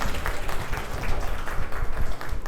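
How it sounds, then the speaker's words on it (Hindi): Audience applause in a school hall in Jubbal, Himachal Pradesh: a steady, dense wash of many hands clapping at once, fairly close and sustained throughout, with no talk over it. "तालियां."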